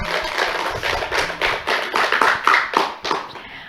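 Applause for a young girl named Aisyah from an Indonesian madrasah pupil show in a studio, a dense burst of many hands clapping that rises and falls in waves over a few seconds with no talk.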